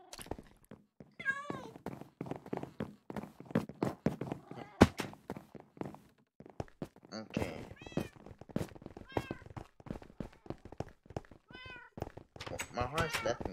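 Meows from a cat in a horse-riding video game, with synthetic game effects such as hoof clip-clop and footsteps, beside a player's intermittent speech.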